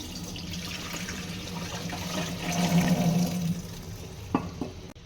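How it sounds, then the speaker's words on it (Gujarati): Water drains from soaked sago pearls tipped into a sieve, a continuous close trickling and splashing that swells in the middle, followed by a couple of soft knocks of the strainer. "સાબુદાણા પલળી ગયા છે ને એને હવે આપણે પાણીમાંથી નિતારી લઈશું."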